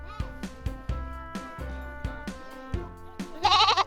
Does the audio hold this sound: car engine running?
no